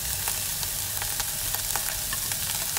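Clams stir-frying with chives in a pan give a steady, close sizzle with brief crackles and light stirring clicks throughout, no voices.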